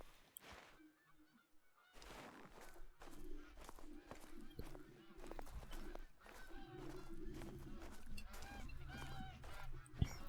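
Geese honk repeatedly in theHunter: Call of the Wild on the Askiy Ridge map in the evening. Their calls are clear and fairly close, layered over soft footsteps moving through the terrain.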